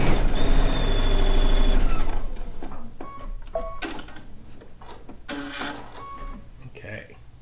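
Home sewing machine stitching a pinned log cabin quilt block seam straight from intersection to intersection, a steady mechanical whir that is louder at first and then eases into lighter ticking and clicks.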